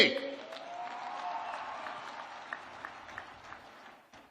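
An outdoor crowd at the opening of the Surguja Olympics in Ambikapur claps to welcome wrestler Geeta Phogat. A voice rings out at the start, then a soft, distant wash of applause thins into a few scattered claps.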